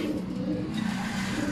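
Racing pigeons cooing steadily at their loft, a continuous soft, low burbling chorus close by, with no voices.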